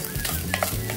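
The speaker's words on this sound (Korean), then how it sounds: "센 물에 쌀을 한번 볶아 주세요" Rice grains stir-fried in sesame oil over high heat in a pan, a bright continuous sizzle with scraping stirs, close and loud for about a second.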